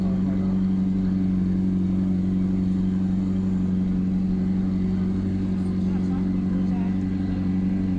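A white McLaren 750S idles just after a cold start, a steady, loud, droning engine hum that holds an even pitch throughout without any revving.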